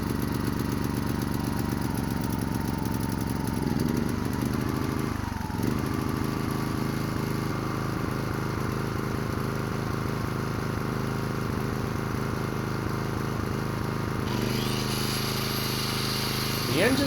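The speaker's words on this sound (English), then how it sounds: "The engine seems to be running great, and the generator works perfectly." A Makita portable generator's engine runs steadily and close by, a continuous droning hum that holds even throughout, with a brief shift partway through.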